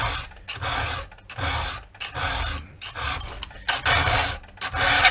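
A hand file sharpens the chain of a Homelite XP1020 chainsaw in short, rhythmic rasping strokes, about eight close scrapes with brief pauses between them.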